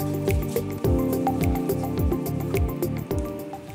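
Zinc sunscreen squeezed from a tube in a pea-sized amount gives close, wet squelching squishes and sputtering drips in quick succession.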